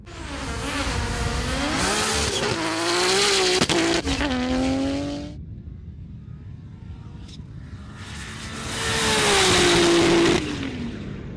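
Nissan GT-R street cars race down a runway, one roaring past with rising revs and rapid gear changes, then fading, before a second car's engine swells loudly again.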